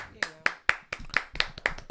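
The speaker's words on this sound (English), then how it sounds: "Let's clap for her." A small group claps, giving about eight sharp, evenly spaced claps over two seconds, fairly quiet and close, with no talking over them.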